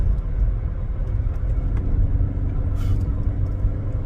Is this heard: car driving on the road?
yes